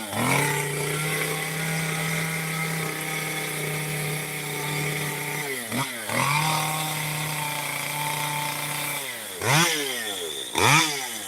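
A chainsaw engine idles and revs, with a steady drone broken by several sharp rising-and-falling revs, heard alone without talk.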